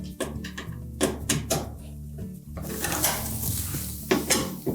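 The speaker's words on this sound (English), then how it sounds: "I'll just remove those screws and take the back panel out of the way." Quarter-inch sheet metal screws come out of the back panel of a Whirlpool washer, with a series of metallic clinks, clatters and scraping handling noises, some sharp and close, others rattling and scuffling.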